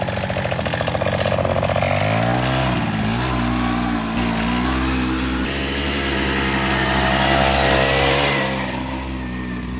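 Rokon 2x2 all-wheel-drive mototractor motorcycle engine labouring in first gear under a pulling load, a loud, close, steady drone whose pitch dips and then climbs again as it strains, with no talking.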